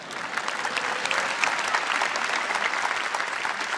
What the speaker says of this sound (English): You can applause, clap.